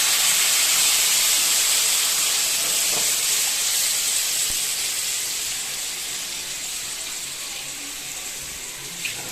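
Water is poured into a pan of frying cabbage and potato curry, setting off a loud, continuous sizzling hiss of steam that slowly fades over several seconds.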